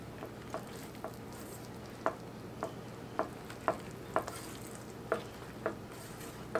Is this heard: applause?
no